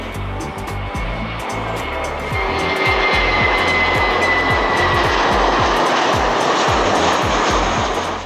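A JetBlue Airbus A320 in New York Jets livery hums and roars with a loud, steady engine drone that swells slightly midway, heard close from inside the cabin.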